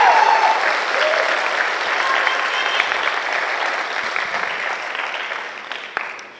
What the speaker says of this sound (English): please give us a big round of applause for your new